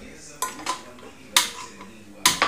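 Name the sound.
pressure cooker set on gas stove being lit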